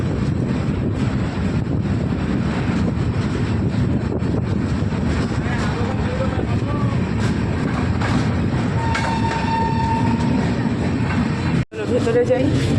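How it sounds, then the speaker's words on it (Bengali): A moving train pulls out of Dalgaon station with a loud, steady rumble, rattling wheels and wind buffeting the microphone. The sound cuts out briefly near the end, and no one speaks. "তো এই দেখো ছেড়ে দিয়েছে ট্রেন।"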